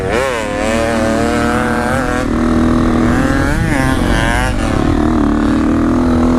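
A 250 FC dirt bike engine runs loud and close, its rough buzzing drone rising and falling slightly with throttle changes and never stopping.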